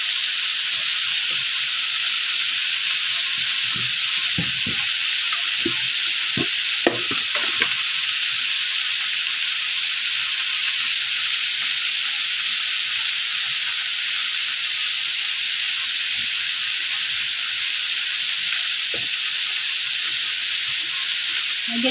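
Dry fish and tomato fry in a pan with a constant loud, bright sizzle and hiss, broken by occasional soft clicks and scrapes of stirring.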